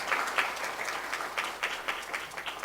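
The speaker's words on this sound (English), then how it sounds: "Let us give him a big round of applause," Audience applause welcoming a speaker at a children's peace summit, a brief burst of clapping with uneven louder claps standing out.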